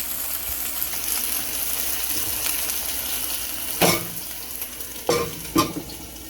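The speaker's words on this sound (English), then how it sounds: "You're going to see this sizzle." Panko-coated tilapia frying in a pan gives a steady broadband sizzle throughout, broken by a few louder bursts near the end as the fish shifts in the hot oil.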